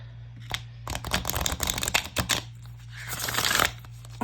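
A deck of oracle cards is riffled and shuffled by hand, giving dense crackling bursts of card flutter at close range with brief pauses between passes, over a faint steady hum.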